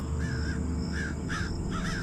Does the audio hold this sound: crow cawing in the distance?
yes